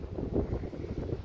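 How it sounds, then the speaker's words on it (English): Low, rumbling wind buffets a microphone outdoors at a hilltop gravesite, a steady muffled roar that swells and dips with no voices. "excuse the wind in the video"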